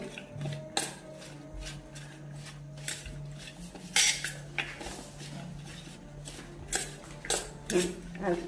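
A spoon stirs salt and coriander into chole in a pan, making irregular metallic clinks and scrapes against the pan with sizzling underneath, some knocks sharp and close.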